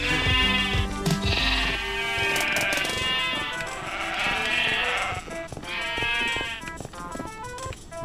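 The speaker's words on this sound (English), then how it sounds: "this library filled with nothing but sheep" Many sheep bleat in a video game, overlapping calls layered over game music, loud and continuous, with lambs among the flock.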